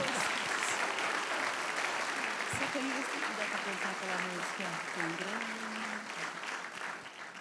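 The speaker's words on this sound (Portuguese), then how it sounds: "Aplauda forte mais uma vez" Loud, dense applause from a church congregation fills the space for several seconds, while a voice speaks and sings over it and the clapping slowly thins toward the end.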